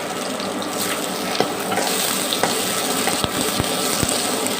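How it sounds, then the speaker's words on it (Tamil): Ginger, green chilli and onion sauté in oil in a pan on the stove, giving a dense constant sizzle close by, with occasional clicks and taps of a spoon stirring toward the end. "அடுப்பில் எண்ணெய் சட்டியை வச்சு அதில் இஞ்சி, பச்சை மிளகாய், வெங்காயம் போட்டு வதக்கிக்கணுங்க."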